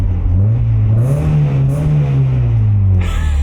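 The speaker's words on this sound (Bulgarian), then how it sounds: "И събуждаме двулитровия двигател, който наистина звучи доста добре." The two-litre engine of a Mitsubishi Eclipse II revs loudly up and back down, its smooth rising and falling drone close and dominant, with a brief bit of background noise near the end.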